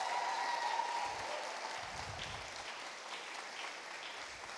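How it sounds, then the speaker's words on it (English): Audience applause for a graduating music cohort at a university graduation ceremony, a steady wash of clapping from a large hall crowd that holds at an even level throughout. "Can we give that cohort a big round of applause,"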